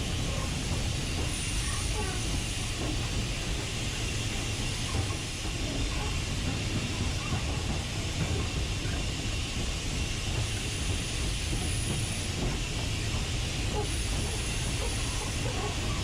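Steady rumbling steam train noise on the Swanage Railway, locomotive 44871, at about 10 mph, with a constant hiss, continuous and fairly loud throughout, with faint high whistling tones drifting in and out.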